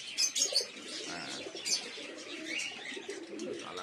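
Pigeons coo softly nearby, with a few sharp chirps and faint wing flutters over a low background murmur.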